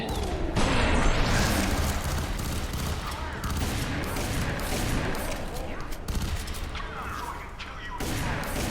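Gunfire in the shooter F.E.A.R. 3 pounds out as a dense, loud barrage of rapid shots and crashes, almost unbroken throughout, with voices talking over it.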